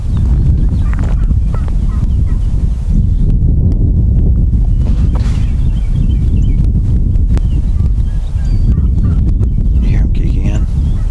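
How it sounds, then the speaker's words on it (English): Wild turkeys gobbling outdoors during an afternoon spring hunt, distant calls rising faintly over heavy wind-like rumble and noise, with occasional voices. "Right off the bat, we hear turkeys."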